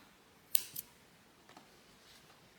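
Scissors snip the yarn ends of a crocheted mesh bag, two quick close cuts followed by softer handling sounds, quiet and without talk.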